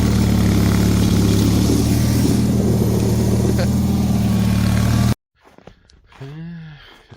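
Snow blower engine idling loud and close with a steady low drone for about five seconds, then cutting off abruptly, followed by someone speaking.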